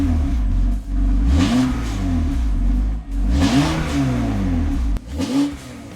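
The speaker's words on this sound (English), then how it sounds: "I'm revving." A BMW M3 engine revs repeatedly, climbing and falling in pitch through several loud blips with brief dips between them, close by with no talking.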